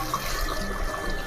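Water is poured for Odia dalma with kosala greens and mung dal in a clay pot, a steady, continuous splashing pour throughout with no voices.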